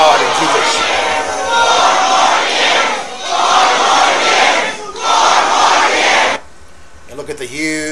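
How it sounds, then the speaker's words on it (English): Large political crowd shouting and roaring over a speaker, loud dense waves of voices surging and dipping for several seconds before cutting off abruptly, with talk following. "You hear the crowd blocking him out when he's talking about God and Jesus."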